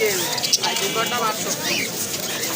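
Doves coo at a busy pigeon market in Khalishpur, Khulna, with soft repeated calls sitting under loud nearby talk and crowd chatter.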